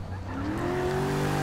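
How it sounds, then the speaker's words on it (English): A V8 car being driven in Forza 6, its engine holding a steady, rising drone that climbs in pitch over a short stretch of continuous play, fairly loud and with no voices. "I want to drift this car mainly because I just love it at the moment."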